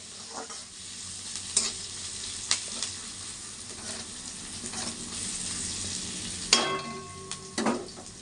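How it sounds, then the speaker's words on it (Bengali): Steady sizzling of onions frying in a pan until lightly browned, with occasional clinks and scrapes of stirring. "দেখো পেঁয়াজ তোমার হালকা লাল লাল ভাজা হয়ে গেছে"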